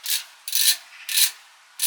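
LTT ratchet screwdriver ratcheting while unscrewing, four quick bursts of dry clicking and rubbing about half a second apart, close and crisp, with no talk.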